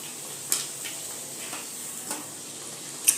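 Kachori fry in oil with a soft, steady sizzle, joined by a few faint light taps and one sharper click near the end, close and without voices.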